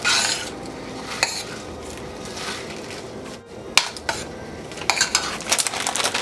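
Spinach being stirred into hot and sour ramen in a pot, giving soft scraping and clinking of a utensil against the pot with occasional sharper knocks, steady and close.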